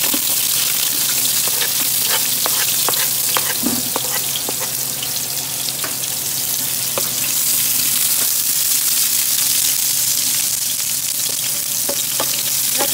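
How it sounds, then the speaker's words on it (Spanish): Minced garlic and onion frying in hot oil for a Mexican shrimp stew, a steady close sizzle with soft crackles and occasional stirring clicks, and no talking. "Ya que está caliente el aceite, le vamos a echar el ajo"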